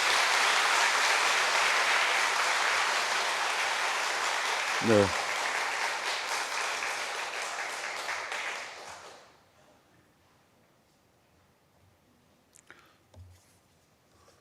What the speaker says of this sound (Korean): 한번 큰 박수 쳐주시기 바랍니다